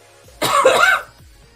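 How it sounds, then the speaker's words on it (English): A single harsh cough bursts out close by, brief and loud, followed by quiet. "Sorry for the coughing again."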